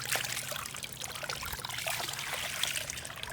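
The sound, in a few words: water pushed through gold dredging pan by SEAFLOW pump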